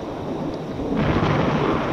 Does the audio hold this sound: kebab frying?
no